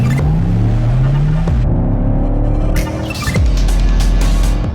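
A Mercedes-AMG GT 4-door electric car drives at speed on the Autobahn, loud and close, with rising and falling whine tones over a continuous road roar.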